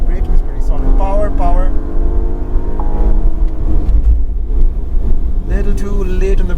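A 2021 Porsche Panamera V6 is driven hard on a race track, its engine loud and rising in pitch through the revs, dropping between shifts, with heavy wind rumble and someone talking over it.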